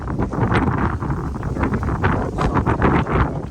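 Strong gusty wind on a golf course buffets the microphone in a loud, continuous roar that surges and eases in waves, with no voices.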